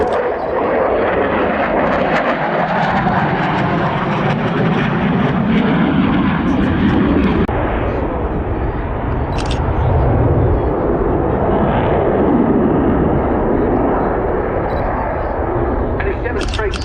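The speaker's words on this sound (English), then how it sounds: "it demonstrates so well the sort of surging performance the Rafale enjoys from the two Snecma M88-2 turbofan engines" Dassault Rafale jet powered by two Snecma M88-2 turbofans performing a fast display roll at an air show, a loud continuous roaring surge of jet noise filling the whole stretch with a shifting, rumbling tone.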